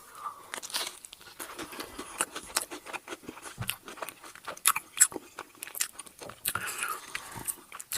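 Crunchy frozen pepperoni pizza is bitten and chewed up close, with repeated crisp crunches and crackles in an irregular rhythm, moderately loud and with no talking.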